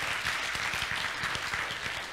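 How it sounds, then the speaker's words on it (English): Church congregation applauding during a Sunday service, a steady wash of clapping from many hands that carries evenly throughout, moderately loud and fairly close, with no talk over it. "Let's give him a round of applause."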